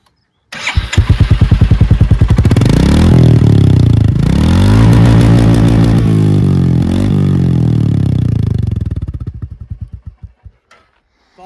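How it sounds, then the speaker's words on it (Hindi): A 2023 Royal Enfield Classic 350 with a bassy stock exhaust starts up close by and settles into a deep, even thumping idle. It revs up and holds, then dies away as the engine is switched off. "वो एग्जॉस्ट काफ़ी ज़्यादा बेसी इन लोगों ने कर दिया है"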